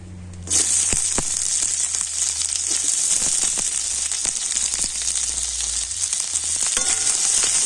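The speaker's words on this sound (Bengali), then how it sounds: "এবারে ওই তেলে পেঁয়াজ দিয়ে দেব" Onions sizzle loudly in hot oil in a pan, dropped in near the start and then frying in a steady, close crackle with occasional stirring clicks and no talking.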